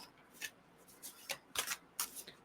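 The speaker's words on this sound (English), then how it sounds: "what's happening with my shuffling?" Quiet riffling of tarot cards being shuffled, several short brisk bursts at irregular intervals, close and soft.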